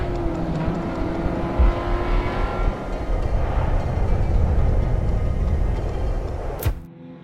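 Porsche 944 race car engine roars steadily on a racetrack, loud and sustained, before cutting off sharply with a brief clunk near the end.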